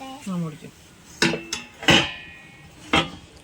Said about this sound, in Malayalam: അപ്പം നമുക്കിതൊന്ന് മൂടി വെക്കാം